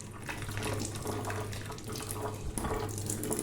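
Water running steadily from a kitchen tap into a sink, a continuous close splashing rush with no talking.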